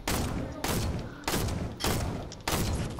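Video game gunfire from an online shooter, heavy booming shots in a steady rhythm of about five blasts, each roughly half a second apart, loud and dense, with faint speech under them.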